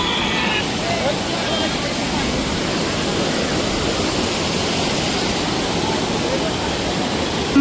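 Water pours over Tulasi Dam at Dhamod with a dense, steady roar that fills the whole stretch, close and unbroken, with no distinct voices over it.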